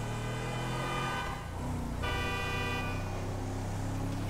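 A car horn honks in the Grand Theft Auto V game, sounding as short toots over a loud, steady engine and traffic drone that carries through the whole stretch.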